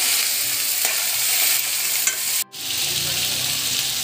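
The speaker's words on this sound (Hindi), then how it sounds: "अब हम डालते हैं इसमें आलू। और अच्छे से इसको मिक्स करते हैं।" Potatoes are stirred into onions frying in a pan, a loud, close, steady sizzle with scraping spoon strokes, a brief cutout, then sizzling resuming with lower bubbling; no speech.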